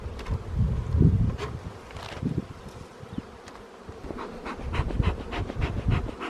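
Honey bees buzz continuously at an open beehive in an apiary, a close, busy hum with a few soft knocks and handling noises around the frames.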